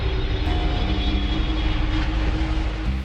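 An airplane flying in mid-air gives off a steady, continuous engine drone, a loud, even rumble with a broad hiss above it that holds unchanged without any talking.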